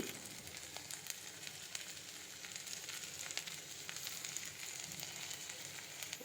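Flattened rice (chira) and green peas fry in a pan, making a soft continuous sizzle with faint crackling, quiet and steady with no voices.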